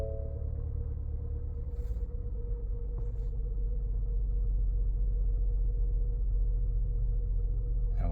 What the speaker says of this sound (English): Depress the brake pedal, start her back up again